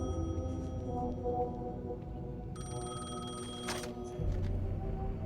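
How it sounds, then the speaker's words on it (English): A telephone rings in the video game Alan Wake 2, thin repeating electronic ring tones over a low droning ambient bed, with a brighter burst partway through before the drone shifts. "the phone's ringing, so let's answer the phone"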